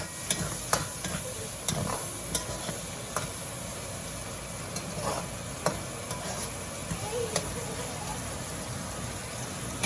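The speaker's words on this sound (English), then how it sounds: "You're gonna give it a good fry until the onions start becoming translucent. Give it a toss, mix well." Onions and peppers frying in a pan and being tossed, giving a soft, steady sizzle with light, irregular clicks and taps of stirring throughout.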